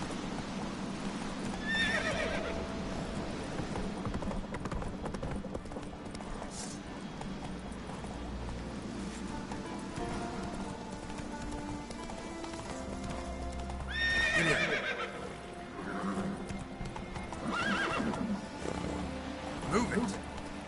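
Roach, the horse in The Witcher 3, gallops with rapid rhythmic clip-clopping hooves and gives a couple of loud whinnies, while in-game voices talk over the action and music runs underneath.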